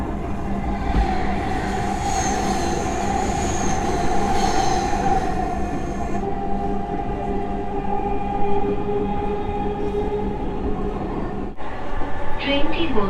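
A Dhaka metro train rumbles along with a steady hum and rattle, a faint high whine above it, and brief clatter near the end.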